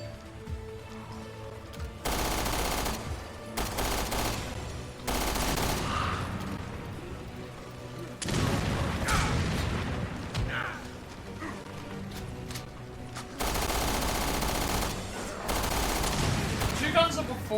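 Gunfire from the video game Resident Evil Revelations 2: several loud bursts of rapid automatic shots in clusters, broken by short gaps with game sounds and a voice talking in between.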